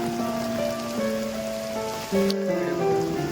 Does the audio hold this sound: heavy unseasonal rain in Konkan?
yes